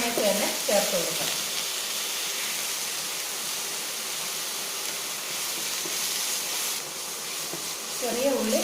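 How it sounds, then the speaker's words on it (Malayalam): Curry leaves, green chillies and shallots sautéing in oil in a pan for bitter gourd stir-fry, a steady close sizzle and hiss throughout, with brief stirring scrapes near the start and end. "കറിവേപ്പിലയും പച്ചമുളകും ചെറിയ ഉള്ളിയും ചേർത്ത് നന്നായിട്ടൊരു 2-3 മിനിറ്റ് വഴറ്റാം."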